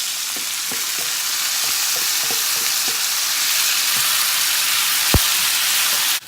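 Chicken pieces sizzle and fry in a pan with browned garlic, giving a steady loud hiss with a few soft clicks and taps of stirring and one sharp knock near the end.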